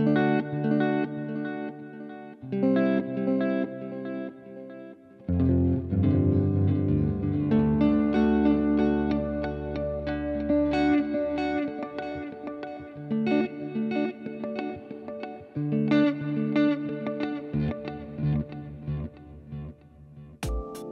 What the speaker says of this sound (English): There's the Earthquaker Devices Avalanche Run. It is a very, very complex reverb and delay pedal in full stereo.